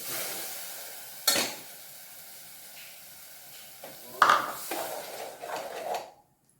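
Tomatoes tipped into a pan of sautéed onion mixture while making tomato rice, giving a soft ongoing sizzle with a few sharp clatters of a utensil against the pan, then a sudden drop to silence at the end.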